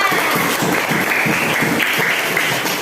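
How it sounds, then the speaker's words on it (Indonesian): Loud, dense clapping from a fourth-grade class close by, sustained and even throughout with no talking. "Tepuk tangan buat Rangga."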